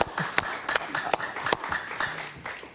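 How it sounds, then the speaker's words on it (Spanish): A small studio audience claps for Ecuadorian politician Guillermo Lasso during a televised interview, with light, scattered handclaps in quick succession at moderate distance. "Un aplauso para Guillermo Lasso"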